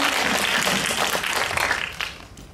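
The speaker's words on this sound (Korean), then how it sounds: "큰 박수 부탁드리겠습니다" Audience applause at a film premiere screening and guest talk, a dense wash of clapping hands filling the hall, steady for about two seconds before thinning and fading out.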